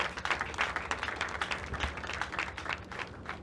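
Moderate applause at a graduation ceremony for an empowerment foundation in Nigeria, uneven clapping from a modest crowd, fairly quiet and steady.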